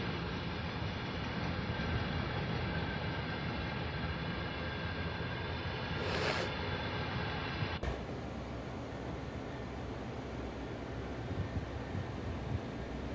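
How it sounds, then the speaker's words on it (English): A CSX freight train rolls past, its rear car carrying a flashing end-of-train device, producing a steady, loud rumble and rush of noise throughout, with a short hiss midway and a slight drop in tone toward the end. "Check on the rear of the train. Here it is, with the flashing EOT."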